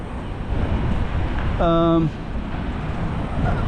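Gusty wind buffets the microphone on Avenida de Kwong Tung, Macau, over a steady traffic rumble, with a brief tonal horn-like sound in the middle.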